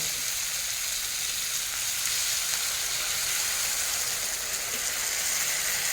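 Chicken curry with bell pepper sizzles steadily in hot oil as water is poured in, a dense, even frying hiss that holds loud and close throughout with no voices.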